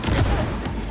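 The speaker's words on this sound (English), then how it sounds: "cheeky little grenade there, cheeky little grenade there" A grenade goes off in Cyberpunk 2077, one dense, loud blast with a rumbling low boom that fills the whole second before a closing crack.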